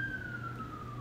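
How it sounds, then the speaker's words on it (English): A distant emergency siren holds a faint, slowly falling wail over low background hum, brief and quiet. "Sorry about the sirens."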